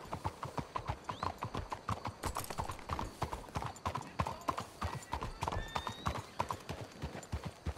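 Horse hooves clip-clop in Red Dead Redemption 2, a close, rhythmic trot of several horses on hard ground with steady repeated beats and a brief whinny partway through.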